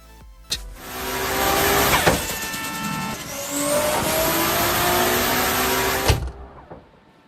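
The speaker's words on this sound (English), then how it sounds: "revving up a Toyota Supra in a garage" A Toyota Supra engine revs loudly and steadily for several seconds inside a garage, its pitch rising and falling, then cuts off abruptly.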